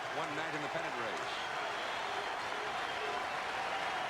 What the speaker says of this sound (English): Not a real big crowd tonight, but awfully noisy, very lively